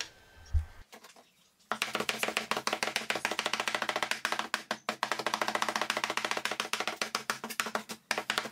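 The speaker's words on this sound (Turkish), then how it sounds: "Zırhla birlikte mümkün olduğunca ince doğramaya bakalım arkadaşlar." Rapid, steady chopping of meat on a board with a mezzaluna knife, a dense run of quick blade strikes after a couple of isolated knocks, close and loud.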